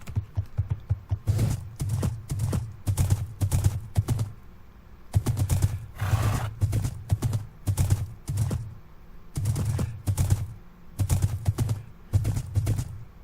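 Hooves of a horse clip-clopping in Minecraft, quick regular bursts of hoofbeats in runs broken by short pauses, clear and close with no talk.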